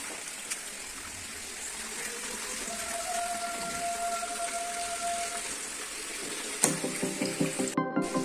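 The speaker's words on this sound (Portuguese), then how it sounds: "Agora eu estou enchendo aqui o cano." Water running into a pipe while filling it to siphon a fish-farming tank, a steady close rush of flow with a rising tone, ending in a few rhythmic gurgling knocks.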